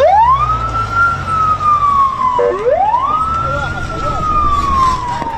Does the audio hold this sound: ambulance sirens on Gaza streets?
yes